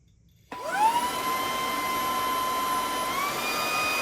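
A Bissell Iconpet Turbo cordless stick vacuum switches on and runs at its normal speed setting, spinning up to a steady high whine with a constant motor drone, loud and close, with no talking over it.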